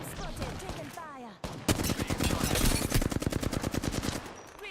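Rapid automatic gunfire in a video game breaks out after a quieter opening and continues as loud, dense bursts through to the end.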